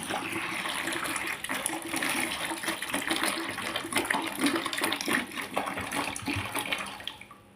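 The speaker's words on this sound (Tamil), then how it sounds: "இதில் 1 லிட்டர் தண்ணீர் சேர்க்குதேன்." One litre of water pours steadily into a plastic bucket while a homemade dishwashing gel is being prepared, a continuous close splashing gush that runs unbroken and tails off at the end.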